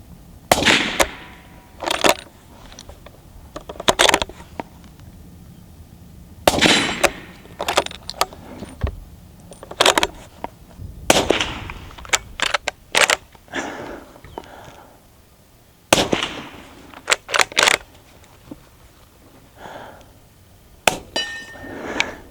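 Rifle shots ring out one after another at a shooting range, a mix of loud sharp cracks and at least one quieter subsonic round, with irregular gaps and some clinking between shots.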